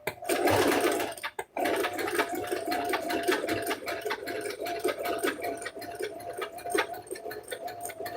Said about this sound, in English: I'm going to go ahead and start sewing around the egg